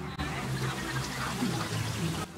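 Sparkling water poured into a pot for cooking pasta on a camping trip, a continuous close splashing and trickling with a faint murmur of voices in the background.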